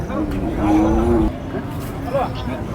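Oxen at the Mudalagi cattle market give a long, deep low that stands out over general crowd babble and scattered voices nearby.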